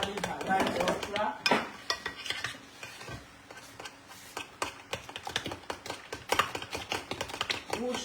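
A utensil stirs cabbage bread batter in a bowl, giving a busy run of scraping clicks and knocks, uneven and close, with brief pauses.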